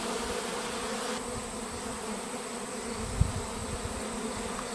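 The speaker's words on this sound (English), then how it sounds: "A lot of bees in 30 minutes." A swarm of honeybees buzzing steadily around a fallen hive outdoors, a continuous dense hum close by, with one brief sharp knock partway through.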